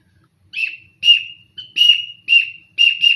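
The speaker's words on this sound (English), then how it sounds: "It's a whistle. That's my instrument for tonight." A whistle gives five short, bright chirping blasts in a steady rhythm, each clipped and separated by brief silences, loud and close with nothing else audible.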